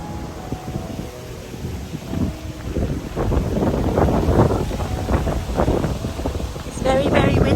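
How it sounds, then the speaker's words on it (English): Strong gusts batter the microphone on a rainy, windy day in California, a loud rumbling roar that swells midway and stays heavy to the end, with people talking over it at times. "It's very, very windy."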